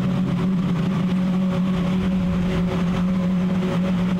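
Racing cars accelerate up past the pits at a circuit, their engines droning loud and sustained with a steady pitch through the whole stretch, with no voices over them.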